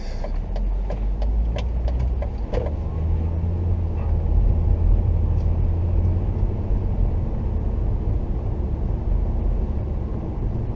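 Interior rumble of a 2002 Volvo S60 driving steadily, a continuous low road and engine drone, with a few brief clicks near the start.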